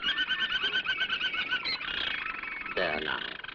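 Canary singing in a shop in a 1936 film, a steady run of bright repeated trills close by, then breaking into a faster warbling phrase toward the end.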